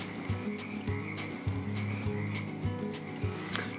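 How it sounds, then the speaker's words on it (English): Pacific chorus frogs croak in a repeating chorus at a weedy island wetland, pulsing steadily at a moderate distance, with no voices heard. "those are Pacific chorus frogs, and they're awesome"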